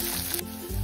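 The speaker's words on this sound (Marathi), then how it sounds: "आता हे कांदा आणि मिरची ना तेलावरती अगदी मस्त असे परतून घेऊयात आपण" Onion and green chilies sautéing in oil in a pan, giving a brief, steady close-up sizzle with no talking.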